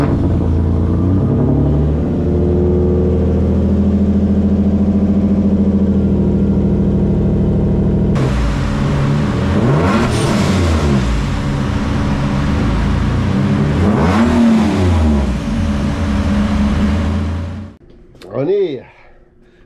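A tuned Nissan 370Z drift car engine idling roughly, then revving hard in repeated rising and falling surges before cutting off abruptly near the end.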